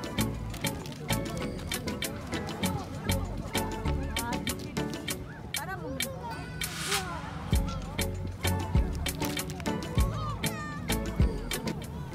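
Gulls cry at a busy seaside fish market at Oido, Siheung, their calls repeated and overlapping with crowd chatter and other bustle, fairly loud and continuous.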